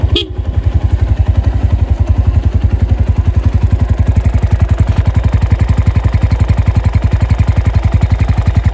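Honda Tiger Revo motorcycle with a GL engine running close by, a loud, steady rapid thumping with an even rhythm throughout, holding a constant pace rather than rising and falling.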